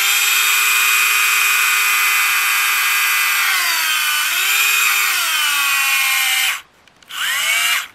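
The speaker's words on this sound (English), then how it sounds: "See how it drills." Small Tamiya Handy Drill, a compact hobby hand drill, whines steadily and loudly for about six seconds, its pitch dipping under load as it bores through material, then cuts out briefly before spinning up again near the end.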